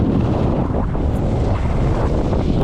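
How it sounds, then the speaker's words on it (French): Strong wind buffets the microphone on a ski slope in the mountains, a loud, continuous low roar and rumble with gusty surges throughout and no speech audible. "Je sais pas si vous entendez avec le vent."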